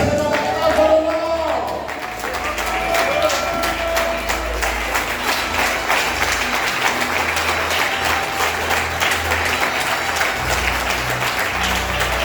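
A church congregation at a men's convention stands and applauds in praise, with loud, sustained clapping and crowd noise filling the room and faint vocal sounds mixed in.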